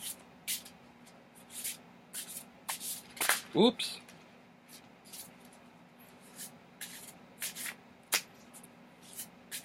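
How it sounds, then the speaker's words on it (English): A flexible plastic Marseille tarot deck is shuffled in quick bursts of crisp riffling and card slaps, close and moderately quiet, with a brief spoken exclamation partway through. "Oh, they are nice to shuffle."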